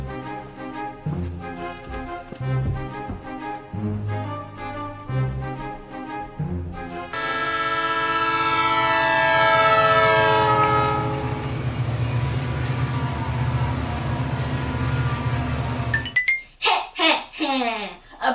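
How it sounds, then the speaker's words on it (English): A toy remote control train sounds a sustained horn blast after rhythmic chugging and clicking, with a voice talking over the rail sounds near the end. "Heavy train."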